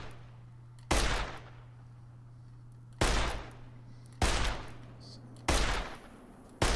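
Gunfire in the post-apocalyptic game Fallout: New Vegas: five loud, separate shots spaced about a second or more apart, each a sharp crack with a rumbling tail, over a low steady hum.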